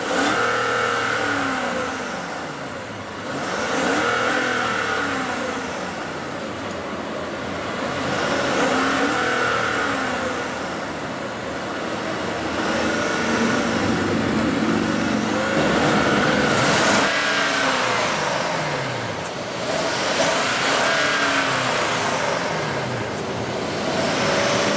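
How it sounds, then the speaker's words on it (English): A 2016 Hyundai Equus Ultimate with a 5.0 L V8 idles and is revved several times, the engine note swelling up and falling back in repeated rises, fairly close and loud with no talking. "let's go ahead and rev it up"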